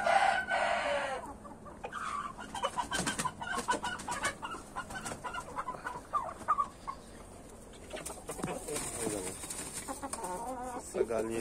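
Chickens and a rooster at a farm cluck and call, with a rooster crowing near the start and again later, close and fairly loud, while bird chatter continues in the background.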